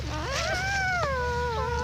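A village dog whimpers in a long, wavering, high moan that rises and falls, faint over a steady background hum.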